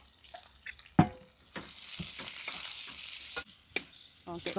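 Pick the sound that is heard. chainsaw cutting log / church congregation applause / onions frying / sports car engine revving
onions frying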